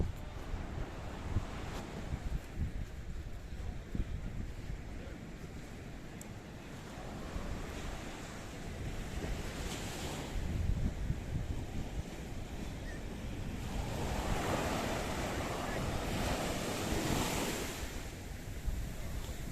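Waves breaking at the water's edge of the blue Mediterranean Sea, a steady wash of surf with wind rushing across the microphone, swelling louder in the later part.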